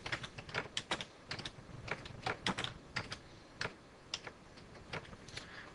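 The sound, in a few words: typing text on a computer keyboard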